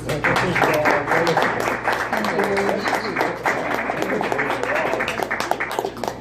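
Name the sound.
audience applause for a comedian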